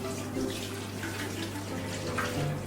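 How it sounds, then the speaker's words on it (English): Hot water pours steadily from a pot into a kitchen sink, a continuous splashing rush with a low hum underneath, moderately quiet and unbroken. "I'm going to drain the water first."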